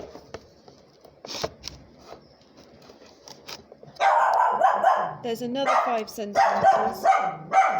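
A dog barks loudly and repeatedly in close, rapid bursts, breaking into a quiet talking voice that continues faintly underneath.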